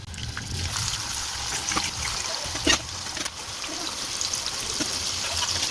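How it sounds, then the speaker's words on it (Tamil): Chicken pieces frying in oil over a medium flame give a continuous close bubbling sizzle, steady throughout, with an occasional light clink. "இதையும் மீடியம் ஃப்ளேமில் வச்சு நல்லா பொறிச்சு எடுத்துக்கலாம்"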